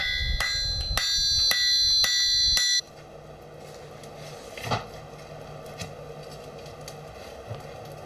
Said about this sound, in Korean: 일손 바쁠 때는 망치질까지 한답니다